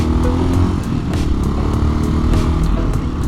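A Honda XL 500 R motorcycle engine runs loud and close while riding, a steady throbbing low thump with rattling clatter throughout.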